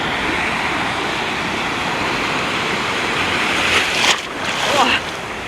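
Stormy sea at Anapa: a continuous roar of heavy surf and wind noise, with a louder wave crash near the end, close and loud.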